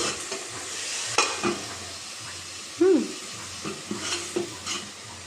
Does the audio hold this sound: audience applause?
no